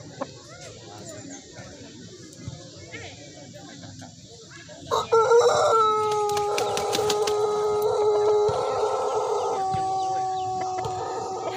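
After some quiet background noise, a Shamo rooster lets out a long, loud crow close by, its drawn-out call holding for several seconds.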